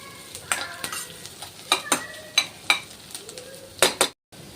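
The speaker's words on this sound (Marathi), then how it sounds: "आपला कांदा आता चांगला लो फ्लेमवर चांगला खमंग भाजला जातो आहे" Onion frying in a pan over a low flame, stirred with a utensil: a soft sizzle underneath a series of sharp scraping and tapping strokes against the pan, spaced irregularly, close by, ending in a brief silence.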